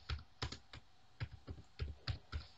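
Quick typing on a computer keyboard while a device name is entered during email account setup: about a dozen close, crisp key clicks in small bursts with short pauses, quiet and with no talking.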